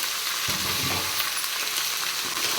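Green chilli, garlic and onion sauté in a pan for a palak keerai thokku, giving a steady, loud sizzle with a few soft stirring knocks in the first second and no voices.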